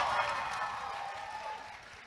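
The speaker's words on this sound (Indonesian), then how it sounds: "Tepuk tangan dulu." An audience at the CIFP 2024 conference session applauds a panelist being introduced, a broad wash of clapping that starts strong and gradually thins out over two seconds.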